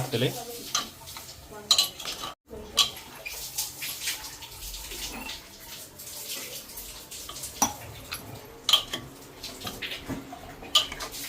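Goat mutton stirred and sautéed in a pot for a Malvani-style dish, with repeated scraping, clinking spoon-on-metal strokes and wet sizzling textures, close and irregular throughout.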